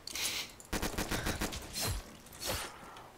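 Bursts of M16 rifle fire in a video game zombies mode on a ski resort map, loud and close, coming in rapid clusters with short gaps between volleys.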